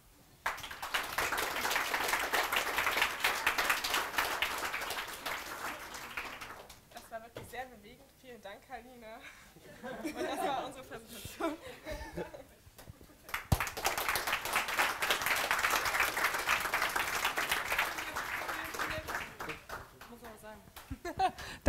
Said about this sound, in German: Ein Applaus für Kaline